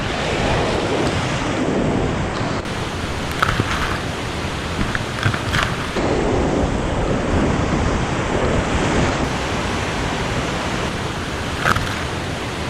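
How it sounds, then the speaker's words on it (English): Whitewater rapids on the Karnali River make a constant loud roaring rush, with water surging over rocks and crashing waves, a dense, unbroken wash of noise with occasional sharper splashes. "There's lots of water going over rocks. They're exploding."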